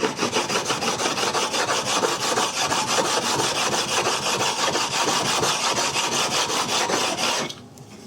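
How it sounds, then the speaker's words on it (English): A 3V steel Fox River knife is sharpened on a water stone, giving a steady, close rasping scrape of repeated strokes that runs evenly for about seven seconds and then stops abruptly. "we should do this small sanding, light sanding frequently."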